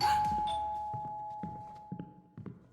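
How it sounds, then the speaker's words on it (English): Doorbell chime in the video game The Feast, a single clear ding-dong ring that fades slowly, followed by soft footsteps approaching, no talking. "Doorbell."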